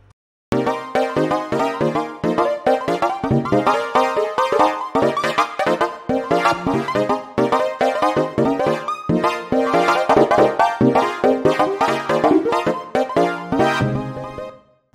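Synth chords run through an arpeggiator MIDI plugin and triggered with mouse clicks, giving a dense, fast-rippling stream of bright notes that plays loud and steady with no talking.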